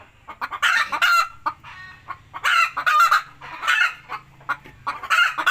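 Free-ranging chickens cluck loudly nearby in repeated bursts, joined by drawn-out rooster crowing calls, with short quiet gaps between the outbursts, in a forest.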